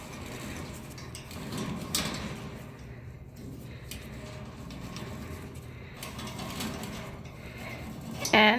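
A small scraper working stuck dirt off the grate of a parrot cage, a close series of rough, grinding scrapes that carries on steadily, with a sharp clack near the end.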